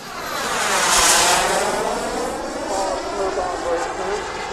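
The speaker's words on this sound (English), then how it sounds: "You're wondering how long this jet can fly." A model jet aircraft flies at an air show, a loud steady turbine roar that swells and then holds with a slight sweeping drift as it passes, with voices faintly underneath.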